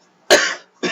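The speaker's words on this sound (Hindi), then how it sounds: "बहुत परेशान हो गए खांसी को" Two harsh coughs close by, the first loud and long, the second shorter after a brief pause.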